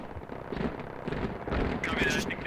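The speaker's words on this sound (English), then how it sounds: "Oh, a hell cannon comes in from that fob behind us." Hell cannon rocket fire in the video game Squad during an Al Basrah invasion match, heavy booming impacts and blasts stacking up over a couple of seconds, loud and close, with a whistling streak near the end.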